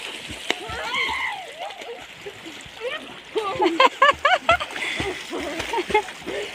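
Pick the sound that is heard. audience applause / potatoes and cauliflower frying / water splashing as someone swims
water splashing as someone swims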